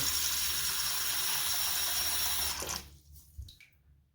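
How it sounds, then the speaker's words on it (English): Water runs steadily from a tap into a sink for a few seconds, then shuts off, leaving a few quiet drips and clunks. "make sure that it's going to fill up with water"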